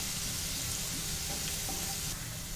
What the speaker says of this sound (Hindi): ये हम प्याज इसमें अच्छे से भून लेंगे।